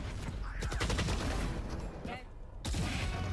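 Rapid gunfire in a tactical shooter match, a burst of close sharp shots followed by a pause and another shot, with a voice talking over it.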